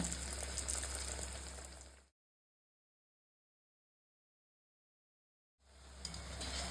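Small potato pakoda frying in hot oil: a steady, faint bubbling hiss of the oil, cut off by a stretch of full silence before the sizzling resumes.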